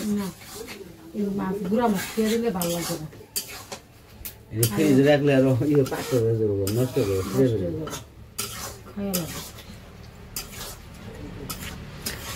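Small fish land in a pan of sautéed tomatoes, with rasping scrapes and stirring against the pan heard under frequent conversational talk from people nearby.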